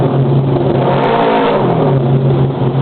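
A motorcycle engine revving hard inside a tunnel, deep and booming with a strong echoing resonance, rising and holding without any talking.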